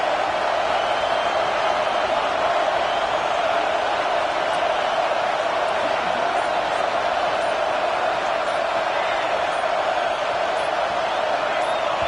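A stadium crowd at an LSU college football game in Death Valley roars steadily and loudly for twelve seconds, a dense unbroken wall of cheering with no pauses.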